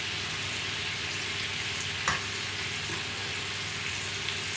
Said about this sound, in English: I'm literally just going to let these finish browning off